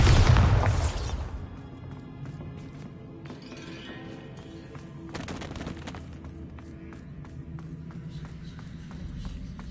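The Bombarda spell bursts in a loud, booming blast at the start in Hogwarts Legacy, then fades into quieter rumbling, scattered pops and light game ambience.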